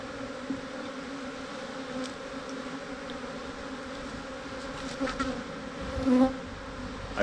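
Aggressive honeybees swarm from a torn-down beehive, a dense, steady buzz from many insects close by, with individual bees swelling louder as they pass, and no talking.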